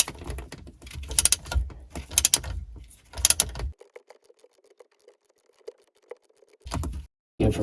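Ratchet loosening a bolt on a 2003 Sea-Doo GTX 951DI engine gives bursts of quick clicking, then several faint, sparse clicks and a short final burst, close.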